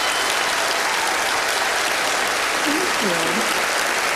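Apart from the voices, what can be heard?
audience applause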